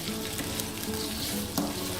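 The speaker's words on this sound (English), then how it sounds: "Let these fry for a couple of minutes." Potatoes and cauliflower fry steadily in a pan for aloo gobi, a dense close sizzle with faint scraping and a brief louder crackle near the end, no voices.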